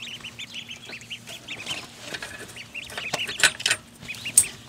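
Mallard ducks kept in a netted pen on a small farm give a run of repeated, fairly close calls and chatter, with other fowl sounds mixed in and no one talking.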